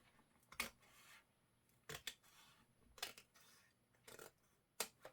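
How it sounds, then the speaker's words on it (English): Scissors snip through the folded spine of an old book in a vintage journal project, four or five short crisp cuts spaced about a second apart, close and fairly quiet with no talking. "I'm just cutting right here at the fold."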